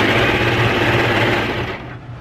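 A sewing machine stitching fabric runs in a loud, steady mechanical whir that fades slightly at the end, with no talk over it.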